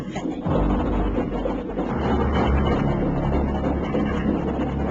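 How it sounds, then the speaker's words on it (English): An ailing tugboat engine chugs with a low, rough rumble that starts after a brief quieter moment and holds steady, fairly close and without speech. "Zak's engine doesn't sound too healthy, warrior."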